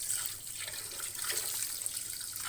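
Live river catfish being washed under running tap water in a kitchen sink, a steady close splash and hiss of flowing water.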